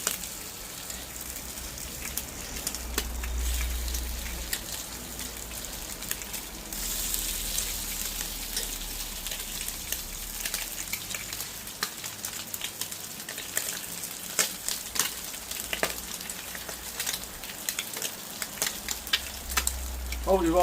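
Bacon sizzles in a pan for a muffin, a continuous crackling hiss with scattered sharp pops and occasional clatter of moving pieces, close and moderately loud.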